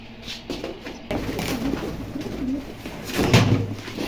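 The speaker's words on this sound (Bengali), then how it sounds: "এটি হচ্ছে বড় কবুতর" A large pigeon coos in low, soft throaty murmurs close by, with a louder burst of cooing near the end and faint background noise.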